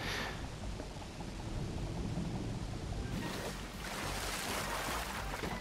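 A waterfall on the planet Pokitaru in the game Ratchet & Clank gives a steady roaring wash of rushing water, loud and continuous, surging a little brighter in the second half, with no talking.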